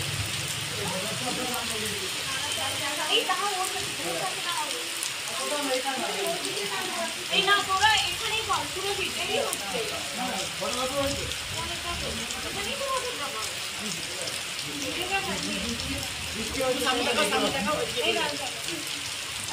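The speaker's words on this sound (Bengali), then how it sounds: "দেখো বৃষ্টিটা কি জোরে হচ্ছে" Heavy rain falls steadily, a dense continuous patter and hiss on surfaces that lasts the whole stretch, with a voice speaking faintly underneath.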